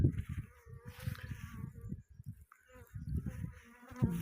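Loud, close buzzing of honeybees swirling around a hive, droning in uneven waves as insects fly past near the listener.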